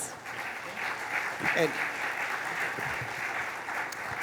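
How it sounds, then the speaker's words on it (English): Audience applause for a panel at an energy keynote event, a steady moderate clatter of many hands with a brief spoken word and faint voices mixed in. "let's give this panel a warm round of applause"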